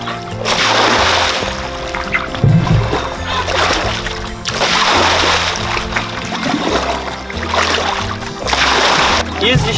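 Water from a garden pond about three years old is dumped out, giving repeated heavy splashing and pouring surges close by while someone talks over it.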